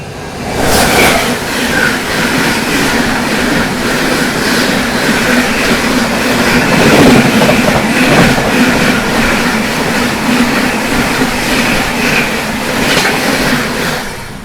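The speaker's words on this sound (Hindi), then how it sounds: "रांची राजधानी एक्सप्रेस।" The New Delhi–Ranchi Rajdhani Express passing close by, a loud, steady rumble of wagons with rhythmic clickety-clack of wheels over rail joints sustained for the whole stretch, heard in heavy rain.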